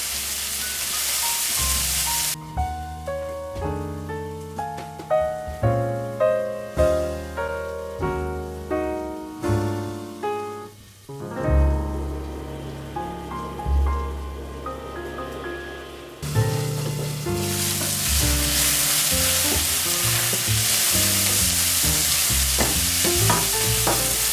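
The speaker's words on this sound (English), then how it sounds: "while the pepper and the onions are cooking, you can just like stir it from time to time" Sliced peppers and onions cook in a pan, with a steady sizzle and repeated stirring strokes through the first half. The frying then turns into a louder, continuous hiss. No voices.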